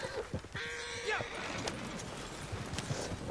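Horse hooves clop in the Red Dead Online video game, a few close, soft thuds under a spoken voice and background game sound.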